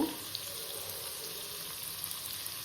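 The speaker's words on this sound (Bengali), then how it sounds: "এইদিকে পনিরগুলো দেখো ভাজা হয়ে গেছে কালার চলে এসছে এক পিঠে" Paneer pieces frying in a pan, a faint, steady sizzle with a soft hiss and a few light pops, heard alone without talk.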